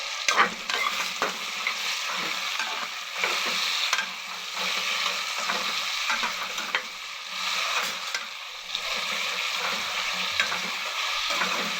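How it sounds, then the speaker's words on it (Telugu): Tomato, onion and a little green chilli sizzle and soften in a frying pan, with a steady close hiss broken by repeated scraping stirs throughout, and no voices. "టమాటా ఉల్లిపాయ మగ్గుతుంది"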